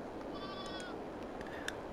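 Sheep and goats bleat faintly in a Farming Simulator 22 farm pen, a few thin cries over steady ambient game noise, no talking.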